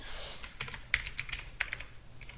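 Rapid typing on a computer keyboard, with close, uneven keystroke clicks in quick bursts against a faint background hum.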